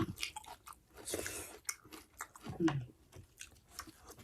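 Crunchy spicy oyster salad chewed up close, with crisp bites and mouth noises in short bursts, mixed with some breathy vocal sounds.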